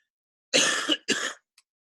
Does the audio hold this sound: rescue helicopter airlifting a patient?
no